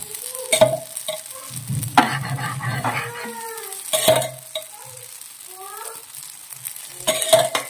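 Bhajani flour roasting in oil in a pan, with a spatula scraping the pan in several sharp strokes over a soft, steady sizzle, plus a few faint tonal squeaks in between; no one speaks.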